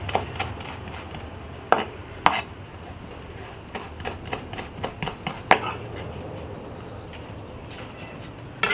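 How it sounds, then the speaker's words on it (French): Knife chopping fresh rosemary on a board for a grilled octopus dish, with a few sharp, distinct knife strikes scattered irregularly over a low, steady background hum. "une cuillère à soupe de romarin haché."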